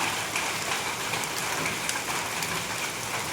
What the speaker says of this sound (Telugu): చూడండి ఆ వైట్గా ఉన్నాయి అన్నీ వడంగల్